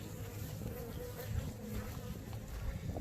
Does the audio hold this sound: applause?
no